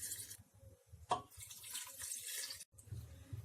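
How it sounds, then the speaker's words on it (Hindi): Water poured from a cup into a pressure cooker holding mutton trotters, a steady close splashing stream with a short gap near the end, no talking. "इसमें अब हम पानी डाल देते हैं।"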